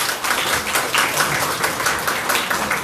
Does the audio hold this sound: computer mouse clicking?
no